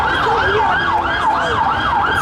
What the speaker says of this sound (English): And here comes the ambulance.